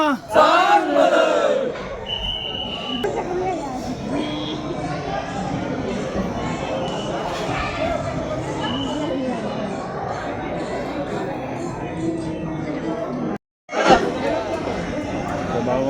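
A dense crowd of devotees queuing at the Balumama temple in Adamapur, a loud continuous roar of many voices chanting and calling, close and crowded, with a brief cut near the end.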